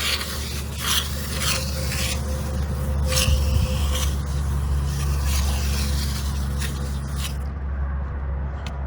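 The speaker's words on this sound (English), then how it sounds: "you're going to start by spraying your cleaner of choice all over your seats." Steady hiss of a spray bottle misting cleaner onto car seats in repeated bursts, over a constant low hum throughout.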